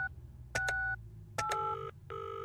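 Telephone keypad tones from a video game as a phone number is dialed: clear, close beeps in separate short presses with pauses between them, over a faint background hum.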